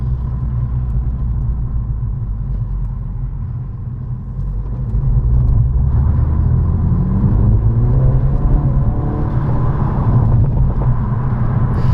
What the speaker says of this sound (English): A few little burbles from the exhaust.